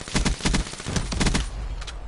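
Rapid bursts of automatic gunfire from the video game Black Ops 3, several quick volleys packed into about two seconds, loud and up close with no talking.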